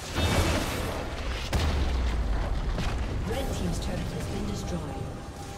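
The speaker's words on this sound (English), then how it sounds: "Red team's turret has been destroyed." A turret being destroyed in League of Legends during a Pantheon versus Jax top-lane match, heard as loud booming explosive bursts with a heavy low-end impact, followed by continued crackling game effects and rumble.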